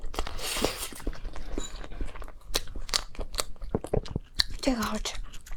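Small cream-filled cake being bitten and chewed up close, with soft crunchy mouth sounds and clicks, and a voice speaking briefly near the start and again near the end.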